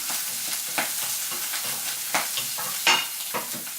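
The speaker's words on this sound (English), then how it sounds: "Give that a good stir." Chorizo and chickpeas with dried rosemary stirred in a pan, giving a soft continuous sizzle with scraping strokes and an occasional sharper clink near the end, close and moderately quiet.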